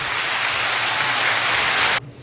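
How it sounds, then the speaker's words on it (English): Applause from a pool hall audience after a good shot, dense and steady clapping at close range for about two seconds that cuts off abruptly, leaving a quiet room. "We'll have to give him an applause for that."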